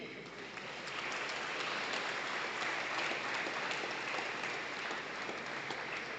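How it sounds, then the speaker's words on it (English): Steady applause from an audience fills a high school athletic hall of honor ceremony, a sustained wash of clapping heard at moderate distance. "Would you please give a round of applause for Bentonville High School Athletic Hall of Honor inductee, Shane Wildman Reed."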